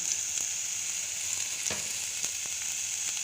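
Chopped onions with asafoetida frying in a pan, a steady close hiss of sizzling oil with occasional soft pops and stirring clicks, no voices.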